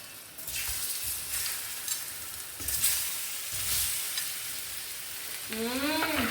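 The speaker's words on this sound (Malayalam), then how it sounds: "എന്നിട്ട് നമ്മൾ നേരത്തെ കട്ട് ചെയ്ത് വെച്ച പഴം അത് ഓരോന്നായിട്ട് ഇങ്ങനെ ഇടുക." Banana pieces drop one by one into hot ghee in a pan and fry, giving a steady close sizzle with stirring clatter and a few sharp knocks.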